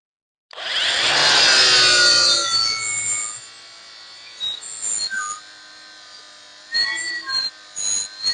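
A Würth flap disc on an angle grinder grinding a weld seam, a loud close whine and rasp for about three seconds, then spindown and several short bursts of grinding.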